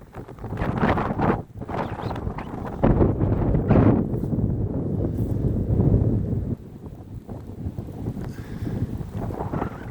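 Strong gusting wind in wet, cold weather buffets the microphone, roaring loudly for several seconds before easing to a lower rush.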